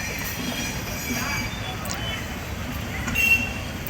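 A train rolls through Tindivanam railway junction, giving a steady, loud rumble of wheels and carriages that holds for the whole stretch, with a brief rise near the end.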